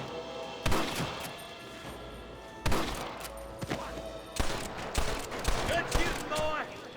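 Gunfire from the video game Red Dead Redemption during a shootout with rustlers at Pike's Basin: scattered loud shots and bursts at irregular intervals over a steady background, with people talking in between.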